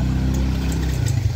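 A motorcycle taken in for servicing runs nearby, a steady low engine rumble that swells slightly near the end, close and alone without talk.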